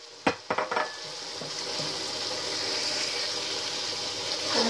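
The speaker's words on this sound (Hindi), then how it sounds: "मसाला है जीरा गार्लिक पेस्ट प्याज को हम रख देंगे भूनने के लिए।" A masala of onion, cumin and garlic paste sizzles steadily in a pan, opening with a few sharp clinks of a utensil against metal before settling into an even frying hiss.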